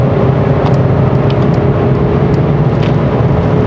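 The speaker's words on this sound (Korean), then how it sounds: "엔진 음색이 오히려 고회전으로 갈수록 좀 더 이렇게 굵어지는 것 같아요" A 2024 Mercedes-Benz E 300 4MATIC engine drones loudly and steadily at high revs, above 5000 rpm, a constant roar with no pauses.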